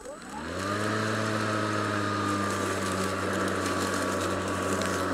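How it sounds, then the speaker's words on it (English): An Atlas 80V cordless lawn mower spins up and runs steadily while mowing grass up a bank, a sustained electric motor whine with a low hum that starts quickly and holds at a constant, fairly loud level throughout. "we're gonna go ahead and mow up this bank"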